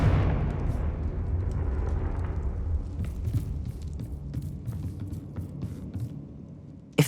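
A Confringo fire spell from Hogwarts Legacy goes off with a loud burst, then a low rumbling blast that slowly fades, with sharp crackles and small pops scattered through the tail.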